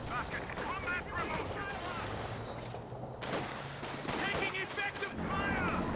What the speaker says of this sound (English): we've got some mortar cover coming down in the middle